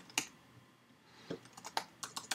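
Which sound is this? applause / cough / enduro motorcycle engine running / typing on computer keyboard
typing on computer keyboard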